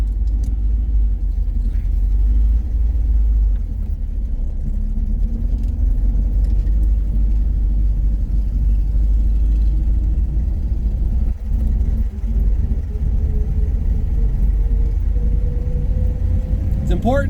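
A car drives along with a loud, continuous low engine rumble and road drone throughout, the pitch slowly rising and falling as it accelerates.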